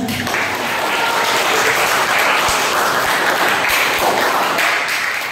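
A class applauds after a student group's geography presentation, a steady, dense wash of clapping with a few thuds under it, loud and continuous throughout.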